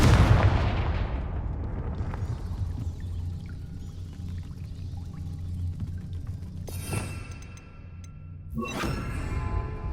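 The Confringo fire spell detonates in Hogwarts Legacy as a loud, booming blast that rolls off into a sustained rumble, then sharp bright bursts and crackles follow near the end.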